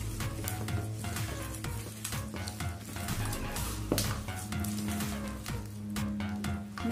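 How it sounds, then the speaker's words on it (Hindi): Potato papad mixture being mixed with spices and oil, heard as dense, continuous close stirring and squishing with frequent light clinks of a utensil over a low steady background hum, with no talking. "फिर से इसको हम अच्छे से मिला लेते हैं।"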